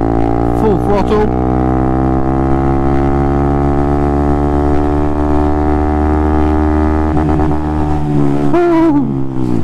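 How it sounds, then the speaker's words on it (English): Honda Monkey 125 motorcycle engine held at full throttle against the rev limiter in second gear, a loud steady buzzing drone with strong harmonics and brief stuttering cuts near the start and end. "Hitting the rev limiter, I was only in second there."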